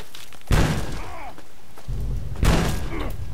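Explosions in the post-apocalyptic shooter Fallout 3: two heavy booming thuds about two seconds apart, each leaving a rumbling, crackling tail, loud and close, with some game noise between them.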